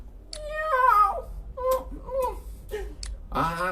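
A storyteller's voice imitates a white cat, giving several drawn-out, wavering meows with short pauses between them, close and clear.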